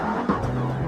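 A 2004 Volvo S60R with all-wheel drive spins through a 360, its engine droning steadily with a brief scrub of tyre noise, loud and close.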